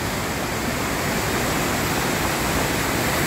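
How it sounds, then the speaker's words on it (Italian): A steady, loud roar of falling water from the Cascata di Mezzo waterfall at Vallesinella near Madonna di Campiglio, heard from a wooden footbridge, broad and constant throughout, with no voices. "Ecco le cascate dal ponticello di legno."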